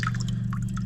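Water dripping inside an abandoned house: a few quick, separate liquid drips and plinks over a steady low hum, close and fairly faint.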